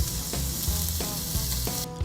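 Wagyu tail meat sizzles on a hot skillet, a loud close hiss with a few soft regular thumps underneath, ending abruptly.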